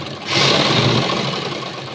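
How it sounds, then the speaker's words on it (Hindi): A sewing machine stitches right along the edge of blouse fabric, giving a loud, close, continuous whirring hum that starts abruptly and runs steadily for about two seconds. "इस तरीके से पकड़ कर बिल्कुल किनारे पर सिलाई लगानी है।"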